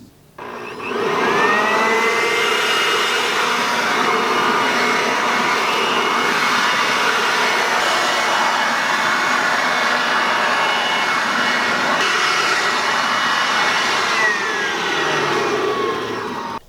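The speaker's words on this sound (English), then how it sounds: "I'm first going to test out the blower to show you exactly how well it works" A WORX WG512 Trivac electric leaf blower starts up and runs at a loud, steady whirring roar for the whole stretch before winding down at the end.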